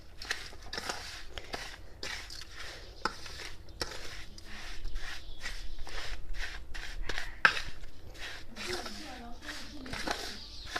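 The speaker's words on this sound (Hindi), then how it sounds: "मसाले जो है वो अच्छे से मिक्स करने हैं" Spices and oil are mixed together for mango pickle. Repeated scraping and rubbing strokes come close up in an irregular rhythm, with a voice talking over them.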